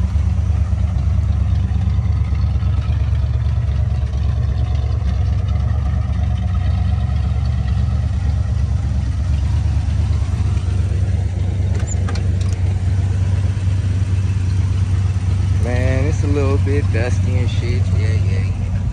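A 1972 Buick Skylark engine idles steadily in a driveway, a loud, even low rumble throughout, with someone talking briefly over it near the end.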